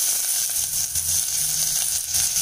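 A steady, bright sizzle of onions frying in hot oil for potato kurma, continuous and close, with no talking.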